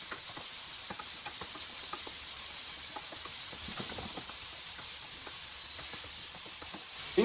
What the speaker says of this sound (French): Je vais venir saisir directement mes lardons